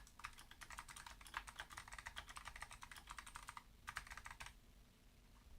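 Rapid computer keyboard typing during a Typeracer typing race, a dense run of close clicking keystrokes for about three and a half seconds, a short pause, then another brief burst before stopping.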